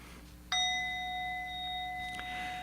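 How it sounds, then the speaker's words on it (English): A single bell is struck once at a Buddhist temple service before chanting, a clear metallic ding with a long, slowly fading ring. "And you can tell by the bell ringing."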